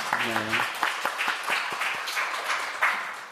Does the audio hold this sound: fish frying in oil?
no